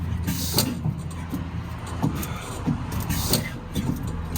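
A stationary engine catches after being hand-cranked, settling into a low, steady chugging beat with regular thumps, while people's voices sound over it.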